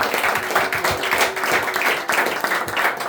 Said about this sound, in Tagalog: Okay, mas malakas na palakpak pa sa Panginoon.